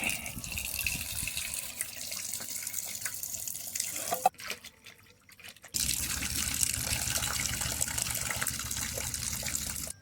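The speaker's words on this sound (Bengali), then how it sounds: "খুব সুন্দর করে আমি এখন পরিষ্কার করে মাছটা ধুয়ে নেব।" A whole sarputi fish is washed clean under a running kitchen tap, with steady gushing water that cuts out for about a second midway and then resumes just as loud. No one speaks.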